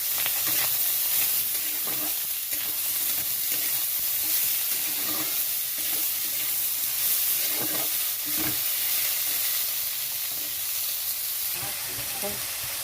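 Cucumber added to a pan with mustard seeds and ginger paste sets off steady, loud sizzling and hissing oil, broken by a few clanks of stirring, for a cucumber shukto.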